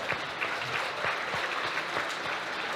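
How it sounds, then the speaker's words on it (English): An audience claps after a model bridge fails a load test at a national final competition, producing a steady patter of moderately loud hand claps that continues without speech. "Give them a clap."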